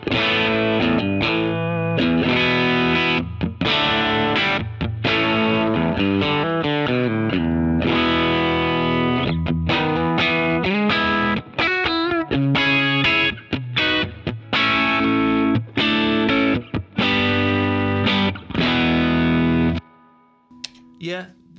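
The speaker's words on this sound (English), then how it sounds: "So this is the Cali 76 and the broadcast." An electric guitar through a Cali76 compressor and a Broadcast overdrive pedal plays chords and riffs with a thick, slightly overdriven tone, fairly loud and continuous, then stops abruptly near the end.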